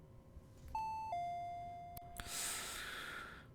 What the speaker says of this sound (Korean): 초인종,